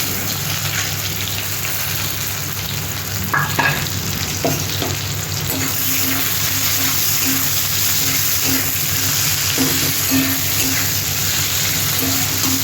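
Chopped onion goes into hot oil already tempered with cumin and bay leaf for an egg bhujia, giving a steady close sizzle with occasional stirring clicks and scrapes and no talk.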